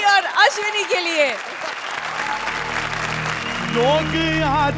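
An audience at a live comedy stage show applauds comedians Ali and Ashwini, with loud, sustained clapping under and between a host's voice and a singing voice.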